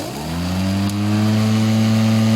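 A modified Parkside X20V Team cordless lawnmower motor runs close and loud, its whine climbing briefly in pitch before locking into a strong, steady drone.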